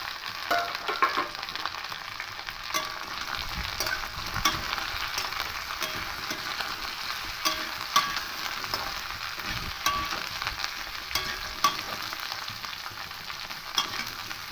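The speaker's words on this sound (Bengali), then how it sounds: "এবার এখানে ঝিঙে কেটে রেখেছিলাম তিনটে ঝিঙে এবারে ঝিঙেটা দিয়ে দেবো" Sliced ridge gourd frying in a hot pan for a vegetarian moong dal dish, with a steady close sizzle and repeated scrapes and clicks of stirring throughout, no talking.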